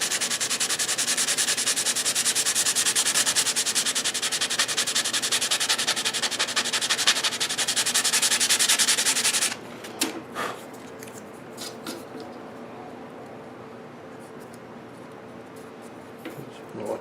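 Hand sanding of a wooden radio cabinet with 220 grit sandpaper, a steady rapid back-and-forth rasp for about nine seconds, then stops, followed by quieter scattered taps and handling noises.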